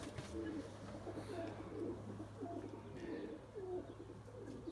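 A large flock of Limoni pigeons coos in soft, overlapping murmurs under a steady low hum, faint and continuous throughout.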